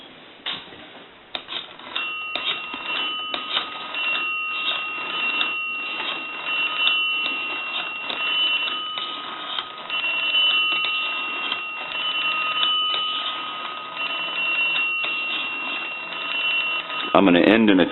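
A rotary Brass Majesty telephone handset carries a steady dial tone while rapid clicking pulses of the rotary dial sound over a narrow, tinny line, with a voice talking.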